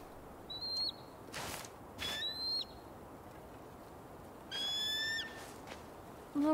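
Several short, high, sliding bird calls from an eagle in the video game Tell Me Why, coming in three separate bursts over a quiet, hushed background, with a faint breathy rush between them.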